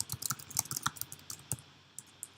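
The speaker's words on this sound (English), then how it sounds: "The easiest way to do that is just to type in personal swim record here" A computer keyboard being typed on to enter a search term, giving a quick, uneven run of sharp, close key clicks that thins to a few isolated taps near the end.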